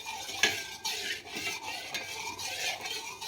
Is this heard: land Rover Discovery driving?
no